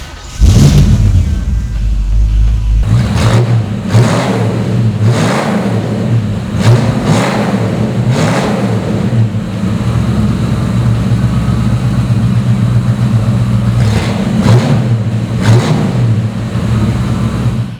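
A 1969 Ford Mustang Mach 1 V8 cranks and catches, then settles into a deep, loud lumpy idle broken by a series of sharp throttle blips that rise and fall up close.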